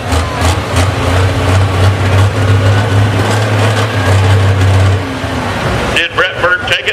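A John Deere tractor in the Pro Stock class roars at full power during a tractor pull at the Sandwich Fair in Illinois. The heavy, loud engine drone holds steady, then cuts off near the end, with a voice over it.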